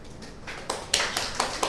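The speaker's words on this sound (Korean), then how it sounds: "박대웅 팀장님한테 박수 한번 주세요" Brief applause for a team leader at a sales meeting, a few scattered claps building into a short burst of clapping from a small group.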